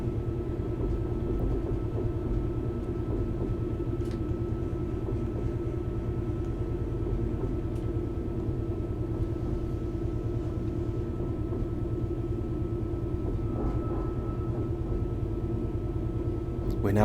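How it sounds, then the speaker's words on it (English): A train coasting at low speed on the Wherry Lines in Train Simulator 2021: a steady, low rumbling drone of running gear with faint rhythmic clicks, continuous and even from start to finish. "I'm just going to allow the train to coast at 20 until we're able to accelerate further"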